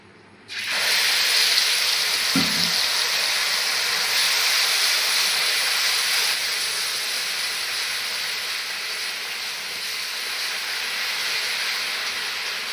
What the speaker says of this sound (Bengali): মশলাটা কিন্তু আমি বেশি ভাজবো না যেহেতু পোস্ত আর বাদাম আছে আদা দেওয়া আছে তাই অল্প করে একটু ভেজে নেব